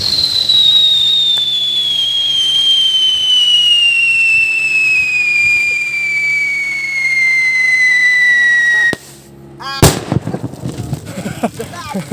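Homemade whistling firecracker set off in a rice field in Zamboanga: a loud, steady whistle slides slowly downward for about nine seconds, cuts out, then a sharp bang and crackling follow.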